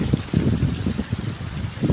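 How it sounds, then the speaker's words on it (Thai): Water flows at a natural spring in Tao Ngoi district, Thailand, a close, continuous trickling and bubbling with uneven gurgling pulses. "น้ำไหล"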